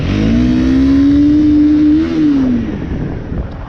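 Motorcycle engine revving hard while riding, a loud sustained drone that climbs in pitch, holds, then drops back as the throttle eases, with wind rush underneath.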